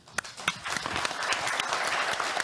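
Conference audience applauds a panel at a European economic integration meeting, steady hand clapping from a sizeable crowd with a few sharper nearby claps, continuous throughout.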